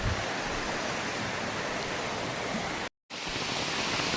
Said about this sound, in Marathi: नदीचं पाणी वाढत चाललं आहे